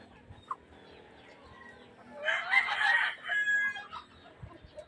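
A large-breed rooster crows once in a brief, somewhat distant burst, with scattered soft clucks and faint background noise before and after.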